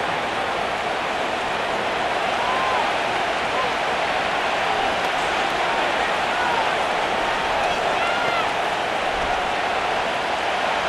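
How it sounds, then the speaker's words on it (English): Stadium crowd cheering in Madden NFL 25, a Jets versus Giants preseason game on PS5, heard as a steady, dense roar of noise with no pauses throughout. "This crowd into it now as we get to third down."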